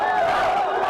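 Crowd of supporters outside Trump Tower, a brief burst of loud massed cheering and shouting with rising voices, heard alone for about a second.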